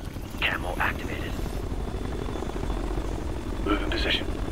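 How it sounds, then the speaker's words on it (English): A hostile helicopter in the video game Ghost Recon Future Soldier drones with a steady, loud rotor throb throughout, while brief radio-style voices speak over it. "It's a hostile chopper."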